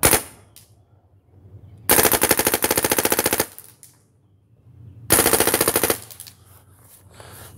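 A paintball marker on semi-auto fires two long, rapid strings of sharp shots at close range, each burst a dense machine-gun-like rattle separated by pauses of quiet.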